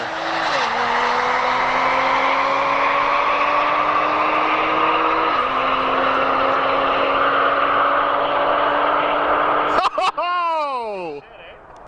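Audi SQ5 with a stage 1 tune on 91 octane and a transmission tune, revving to 7,200 RPM on a quarter-mile drag run. The engine drones loudly through two gear shifts, then quick revs and a sweeping whine close the run.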